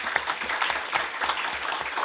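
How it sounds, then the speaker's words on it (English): Audience applause in a European plenary session hall, a continuous patter of many hands clapping at moderate distance, fairly even with no voices on top. "Applause for that"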